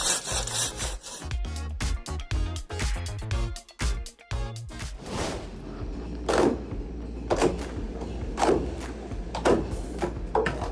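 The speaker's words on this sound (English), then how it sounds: "the Manbiki Uga saw was highly valued in Japan for its sharpness and precision in woodcutting" A Japanese maebiki oga saw works through wood with rapid, rasping strokes at first, then slower, heavier pulls in a steady rhythm, close and loud, with a thump partway through.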